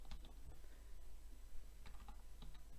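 Typing on a computer keyboard, a steady run of quick light keystrokes with a brief pause, close and fairly faint over a low hum.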